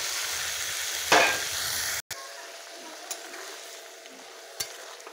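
Pieces of ash gourd sizzle steadily in a hot pan, stirred with a sharp scraping burst near the start, then a continuous frying hiss with a few faint clicks of the utensil; no one speaks.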